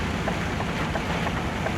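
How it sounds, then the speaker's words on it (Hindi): Heavy rain pours on a car driving in the mountains of Italy, a dense steady wash of drumming drops and road noise, loud and continuous with no talk. "ये देखो बारिश इतनी तेज़ पड़ रही है भाई साहब"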